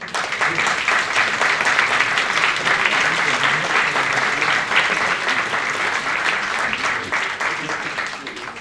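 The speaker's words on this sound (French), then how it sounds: "On peut les applaudir." A crowd at a municipal council meeting applauds continuously, a dense wash of clapping that holds steady for several seconds before easing off slightly at the end.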